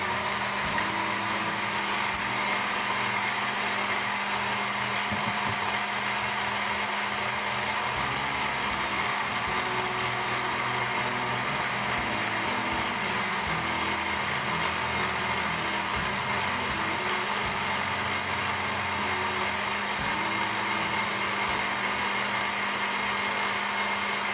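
Electric mixer whirring steadily through cake batter for a homemade cake, a continuous motor drone running for the whole stretch at even loudness with no talking.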